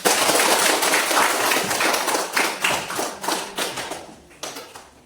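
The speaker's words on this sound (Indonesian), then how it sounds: "Ya, kita berikan aplaus ke kelompok 4." Applause from a classroom of students for a presenting group, a burst of dense clapping that thins into scattered, fading claps near the end.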